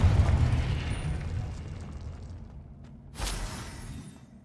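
A Confringo spell explosion from Hogwarts Legacy bursts loudly at the start and decays into a low rumble, followed by a second sharp blast near the end.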